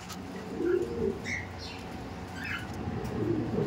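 Racing pigeons in a loft give soft, low cooing phrases that come and go alongside a few brief chirps, close by and fairly steady over a background of gentle loft noise.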